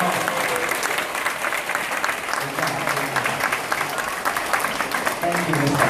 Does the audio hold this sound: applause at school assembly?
yes